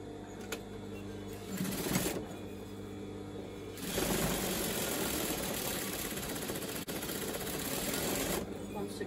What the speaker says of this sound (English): So we can get that twin needling done.